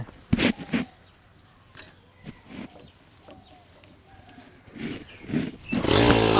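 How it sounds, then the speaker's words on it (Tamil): A homemade adventure bike built around a TVS 50 engine is kicked over several times with sputtering bursts, then catches and revs up loudly into a rising buzzing drone at the end, with no voices. "இப்போ நம்ம ஃபஸ்ட்டு டேங்கில் பெட்ரோல் ஊற்றிட்டு ஸ்டார்ட் பண்ணி பார்த்துருவோம்"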